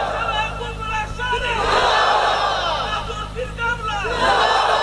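Large crowd at an outdoor religious sermon roaring a loud, unified chant in response to a takbir call, swelling voices shouting together in waves, close and dense.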